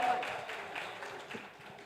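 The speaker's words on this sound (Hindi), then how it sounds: "जोरदार तालियां, कम ऑन।" Audience applause at a celebrity press conference for the film Jamai No. 1, light scattered clapping at modest volume that tapers off, with faint voices mixed in.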